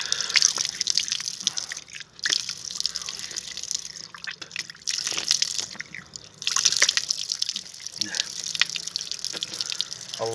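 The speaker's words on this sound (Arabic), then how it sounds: "خلينا نغسل وجهي." Cold mountain spring water runs from a public drinking fountain beside the restrooms at the palace of Sultan Abdulhamid II, splashing and dripping steadily while someone washes their face, with a voice talking intermittently over it.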